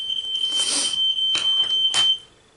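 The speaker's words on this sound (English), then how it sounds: "That is my smoke alarm." A high, piercing electronic smoke alarm tone sounds continuously, with a few bursts of rustling or clatter over it, then cuts off abruptly.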